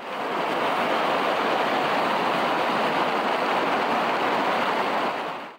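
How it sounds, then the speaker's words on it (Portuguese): Floodwater rushes through a crop field in Paraná like a waterfall, a loud, continuous broadband roar with no pauses or voices. "Em outra, parece uma cachoeira dentro da lavoura."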